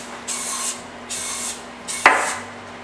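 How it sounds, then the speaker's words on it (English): Cooking spray hisses into the cups of a 12-cup muffin pan over a sink in three short bursts, followed by a sharp metallic clink. "take cooking spray and spray it into the cups over the sink"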